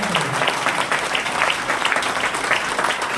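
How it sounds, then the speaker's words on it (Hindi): Audience applause in a hall at a marketing meeting, a short burst of lively, dense clapping from a crowd that carries steadily for a few seconds. "एक बार जोरदार तालियां चाहूंगा।"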